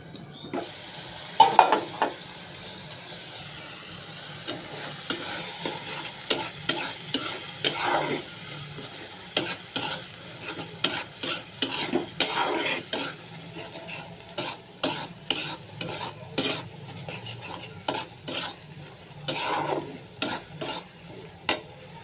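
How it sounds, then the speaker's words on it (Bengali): Tomato fish curry stirred in an open pan after the lid comes off, with rapid, rhythmic scraping strokes of a spoon over a continuous frying sizzle, close and fairly loud. "এবার ঢাকনা খুলে নেড়ে দিব"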